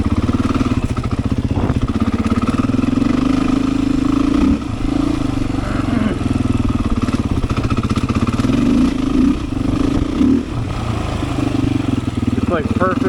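A Beta 500 dirt bike engine is held at wide open throttle on a trail ride, giving a loud, close, continuous deep roar with a steady drone, briefly dipping and surging as the revs shift.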